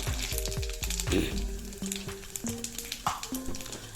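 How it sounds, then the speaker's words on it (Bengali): Steady sizzling of hot oil with crackles and pops as a dry chili and five-spice seeds fry, punctuated by stirring clinks from a utensil against the pan. "এবার আমি এর মধ্যে দিয়ে দিচ্ছি একটা শুকনো লঙ্কা, আর দিয়ে দেবো 5 ফোড়ন"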